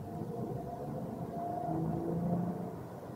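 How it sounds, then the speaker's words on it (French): Hybrid three-cylinder engine of an Opel Astra GS Sports Tourer 48-volt mild hybrid pulling under acceleration, a steady low rumbling drone that swells slightly in the middle, heard from inside the car with no talking. "on a vraiment ce bruit du 3 cylindres spécifique"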